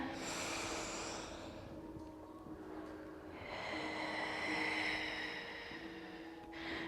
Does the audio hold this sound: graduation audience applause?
no